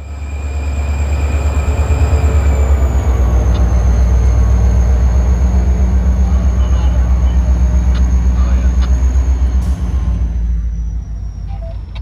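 Florida East Coast Railway switcher FEC 960 rolling past with loud low rumble and rhythmic clacking of wheels over rail joints, a faint squeal above, fading near the end.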